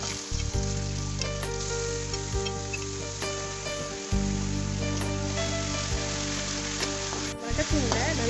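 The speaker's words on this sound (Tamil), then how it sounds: "எண்ணெய் சூடேறிட்ட பிறகு மங்கள உள்ள பொருட்களை எல்லாத்தையும் போட்டு" Ingredients sauté in hot oil for a fried egg and chicken dish, giving a steady, close sizzle throughout with brief breaks and a few stirring scrapes and clinks.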